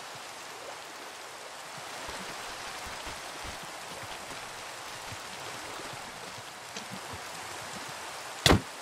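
Rain falls steadily in a Minecraft mangrove forest, a constant hiss of drops, with one sharp loud hit near the end.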